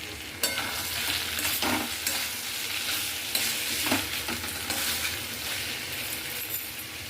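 Prawn and banana stem curry with garam masala and ghee sizzles steadily in a pan, a loud close frying hiss broken by occasional stirring scrapes and light clinks.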